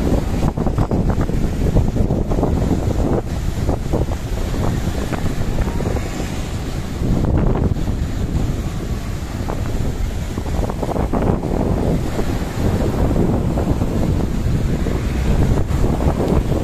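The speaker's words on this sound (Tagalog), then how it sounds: "Lakas ng alon, no?" Strong wind buffets the microphone in a continuous roar, with heavy sea waves surging and crashing underneath, at Pagbilao.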